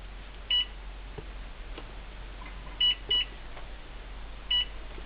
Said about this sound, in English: There you go, timer set.